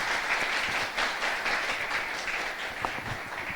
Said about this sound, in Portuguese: Palmas para eles aqui mais uma vez.